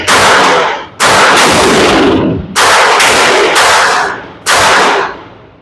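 A Maxim Defense PDX in .300 Blackout fires downrange at an outdoor range using iron sights: four very loud, close shots spaced about a second apart, each with a booming echoing tail.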